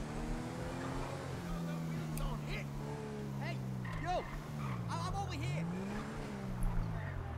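In the GTA V video game, a police car overtakes another car; engine tones rise and fall in pitch, with sliding whooshes and tire noise, while someone talks over the game sounds.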